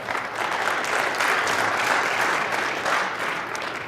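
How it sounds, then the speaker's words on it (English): An audience at a business presentation breaks into sustained applause, a dense, even wash of many hands clapping for several seconds, close and loud with no talk over it. "Let's have an applause for that one."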